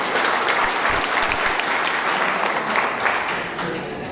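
An audience claps together in loud, dense, sustained applause filling the room, then tapers off slightly toward the end.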